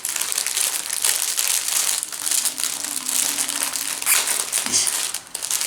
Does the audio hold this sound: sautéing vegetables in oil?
no